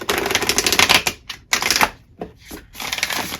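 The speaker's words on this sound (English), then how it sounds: "So let's give it a nice shuffle and see how well they shuffle here." A new oracle card deck being shuffled by hand, several quick riffling bursts of rapid crisp clicks separated by short pauses, close and loud with no talking.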